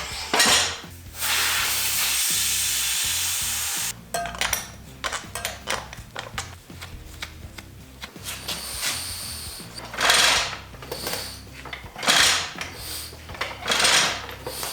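A motorcycle wheel being fitted onto a Honda CRF300L enduro build, a close jumble of metallic clanks, knocks and scraping handling noises, with a steady whirring stretch near the start and no talking.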